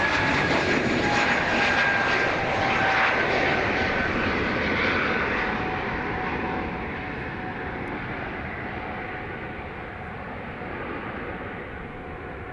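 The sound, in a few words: aircraft engines at Dublin Airport runway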